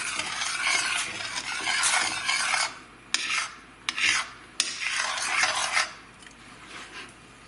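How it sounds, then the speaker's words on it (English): A spoon stirs a vegetable and shrimp soup with saffron in a pot, making repeated scraping, rasping strokes with a few sharp clinks, close and alone. "Give this a stir."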